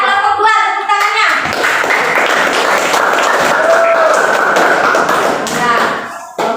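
Classroom pupils in group 2 break into a burst of clapping, a bit sharp and uneven, joined by thuds and shuffling, with a teacher's voice heard briefly before and after it.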